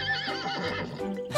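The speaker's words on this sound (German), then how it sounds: "Wie macht das Pferd?" A farm-animal toy game plays a horse neighing: a loud, close, wavering whinny that fills most of the moment and ends with a short noisy burst.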